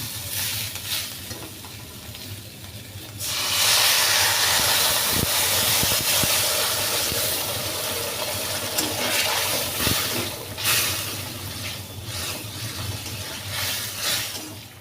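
Water hits a pan of frying pointed gourd curry, and a soft bubbling sizzle swells into a loud, sustained hissing steam with occasional stirring clicks, easing slightly toward the end.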